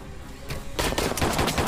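Bursts of automatic gunfire in the sci-fi survival game Dysterra, a quick run of sharp shots starting faint and swelling loud in the final second, with no voices.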